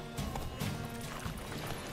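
Horse hoofbeats from The Witcher 3 clop along at a steady gait, close and distinct over a low game ambience, with no talking.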